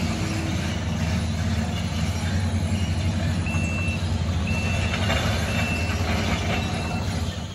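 Heavy construction equipment, an excavator and a bulldozer, working near a barn building site, producing a loud continuous engine rumble with clanking and intermittent reversing beeps, close by and unbroken.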